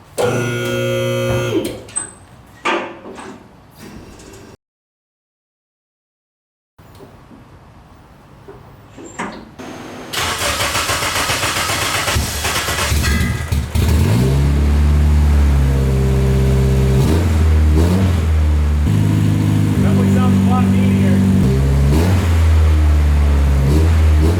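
A K24 engine swapped into a Nissan Cefiro cranks and fires up after a brief silence, then revs loudly and raw without muffler or rear exhaust, rising and falling in repeated throaty bursts.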